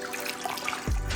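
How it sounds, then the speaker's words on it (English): A rinseless wash sponge splashes into a bucket of rinseless wash solution, a sudden wet plop near the end after a quiet stretch of faint trickling water. "Now I add my specialized rinseless wash sponge to the solution."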